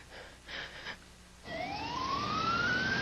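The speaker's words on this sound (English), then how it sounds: "A basic life support CM ambulance was immediately dispatched." An ambulance siren starts up abruptly and wails with a steadily rising pitch, loud and close, after a stretch of muffled background noise.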